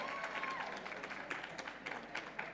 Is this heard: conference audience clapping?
yes